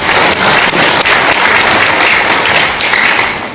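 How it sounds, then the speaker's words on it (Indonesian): An audience applauds in a hall: dense, loud, steady clapping that fills the whole moment without a break. "Ini tepuk tangan Bapak Ibu semua"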